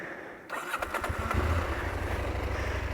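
A motorcycle engine on the rocky Moab trail catches after a brief quiet moment and revs, settling into a close, throaty, pulsing idle rumble with a quick rise in throttle early on.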